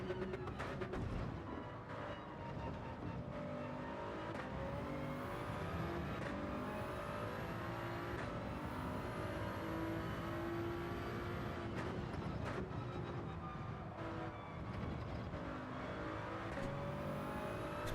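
Race car in a racing video game at the Red Bull Ring, its engine droning and revving steadily throughout, with shifting pitch through corners and occasional tire noise, loud and continuous.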